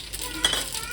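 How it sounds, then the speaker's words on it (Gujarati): Cumin tempering in hot oil for dal in a home kitchen, soft sizzling with a metal spoon clinking and stirring in the pan, one sharp clatter midway. "આપણે તેલે નાખી દીધું અને વઘાર કરવાનું થાય દાળમાં તડકો નાખવાનું છે"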